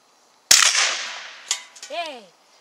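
A .44 Magnum revolver fires a single loud, sharp shot at water bottles outdoors, with a long decaying blast, followed by a brief voice.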